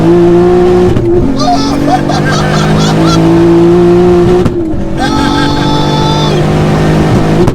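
Sleeper car pulling hard in a second-gear roll-on, loud sustained engine wail climbing in pitch with a shift break in the middle, as excited voices shout throughout.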